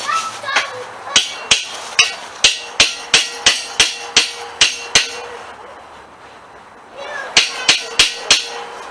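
Sharp metallic hammer strikes driving a rod into a gas Power Wheels frame, in quick, steady runs, a burst of about ten blows, a short pause, then several more, loud and close.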